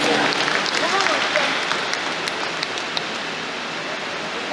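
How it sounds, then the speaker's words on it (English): Steady, dense applause fills a large gathering at the Asantehene's 23rd anniversary thanksgiving service, broad and continuous throughout with a few sharper claps standing out near the end. "Ananum, you clap for yourself"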